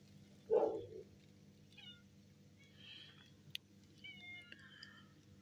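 A recovering sick cat lets out one loud, close meow near the start, then quiet room noise follows with a few faint chirps and clicks.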